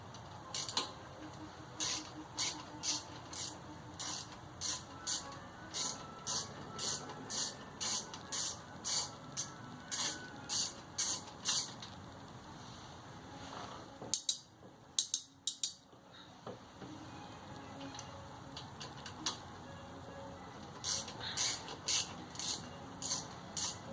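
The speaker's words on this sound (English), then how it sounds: "So we take out each nut." A ratchet clicks in quick repeated bursts of rapid ticks while removing three hub nuts on an SP1 hub, pausing briefly midway for some clunks and handling sounds before resuming, close and fairly quiet.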